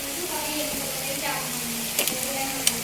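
Squid frying in ghee with masala on a gas stove, a soft steady sizzle with faint tonal hum and a couple of clinks from a utensil against the pan, under quiet talk.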